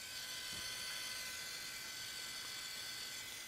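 A Moleskine PoGo photo printer runs through a print, giving a faint, steady mechanical whir and buzz that continues unbroken throughout.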